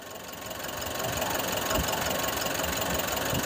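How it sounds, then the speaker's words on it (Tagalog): A 2019 Nissan NV350 van's engine idles with a steady, even low rumble and a faint mechanical knock, growing slightly louder and then holding close and constant with no talking. "maririnig nyo yung kanyang andar, napakatining pa. Maayos pa yung kanyang makina."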